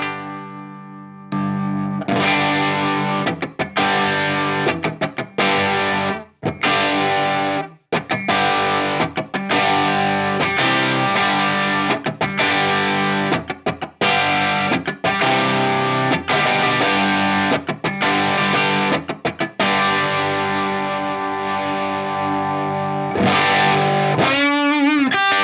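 Electric guitar played through a Nobels ODR-1 overdrive pedal set to low gain, on a pedalboard, with sustained mildly driven chords and single notes ringing continuously and loudly with brief gaps, alone without talk.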